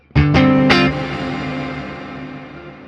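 Distorted electric guitar strikes a few quick chords through a spring reverb effect, then the notes trail off into a long, springy reverb tail.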